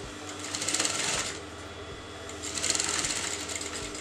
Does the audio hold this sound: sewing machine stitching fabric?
yes